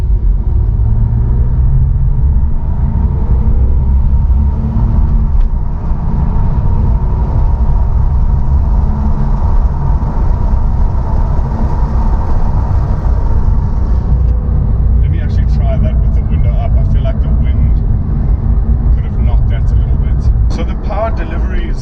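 Porsche 911 Carrera S of the 997 generation accelerating hard, a loud continuous engine roar and road rumble heard from inside the car, steady and dense throughout.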